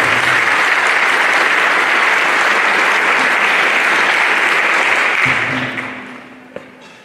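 Loud, dense audience applause fills a hall at a talk on early-onset familial Alzheimer's research in Colombia, holding steady for several seconds before tapering off to a few scattered claps.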